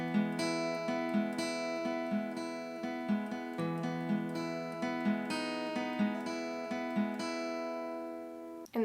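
Acoustic guitar fingerpicking the full intro of a song, a steady arpeggiated pattern of ringing plucked notes over sustained chords, close and clean, played alone with no talking.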